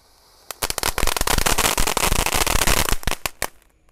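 Fireworks crackle and pop in a dense, rapid volley at night, sharp loud bursts packed close together for about three seconds before tapering to a few last pops.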